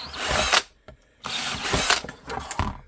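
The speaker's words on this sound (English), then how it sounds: "So let's drill this out." A power drill whines loudly in two long runs separated by a brief pause, drilling out a 7/32 hole in a pistol holster, close by, with no talking.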